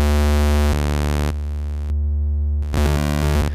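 Steady synthesizer triangle-wave tones with rich, evenly stacked harmonics, changing in brightness and pitch across a few held notes, briefly dropping to a softer, duller tone.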